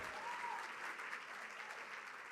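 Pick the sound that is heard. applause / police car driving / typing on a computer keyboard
applause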